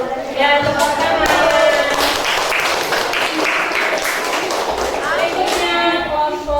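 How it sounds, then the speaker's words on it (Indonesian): Classroom applause from students, a broad dense patter of many hands clapping steadily at close range, with voices mixed in beneath it. "Ya, tepuk tangan."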